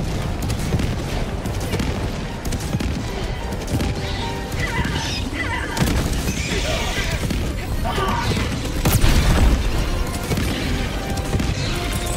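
Grenade blast in a military shooter video game played at maximum graphics and difficulty, heard in a dense, loud mix of rumbling explosions and gunfire that never lets up, with voices calling out under the din.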